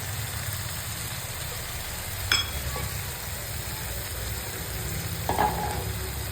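Spices frying in hot oil in a pan on a home stove, giving a steady, dense sizzle from start to finish, with two brief clinks of a utensil against the pan, close and with no voices.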